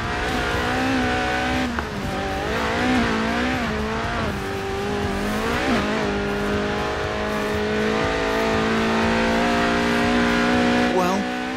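A Lotus Elise drifts in Forza Horizon 4, its engine revving loudly and steadily with wavering pitch while the tires squeal underneath. A voice talks over the continuous engine noise.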